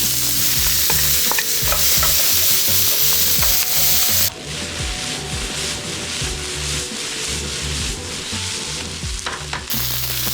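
Onions, carrots and celery sizzle and fry in a pan, a steady close crackle with scraping stirring strokes throughout, the sizzle dropping slightly quieter partway through.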